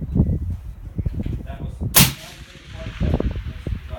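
A rifle shot fires toward a steel target 1,000 yards away on a long-range range, one loud sharp crack with a trailing echo midway, surrounded by low rumbling wind and handling noise.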